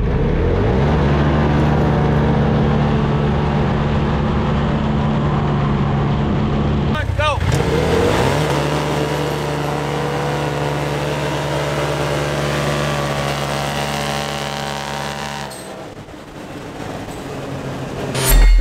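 Polaris RZR XP Turbo off-road vehicles launch from a standing start, with a loud, close engine drone that holds steady and then rises sharply as they accelerate away, broken by rattling clatter and brief voices.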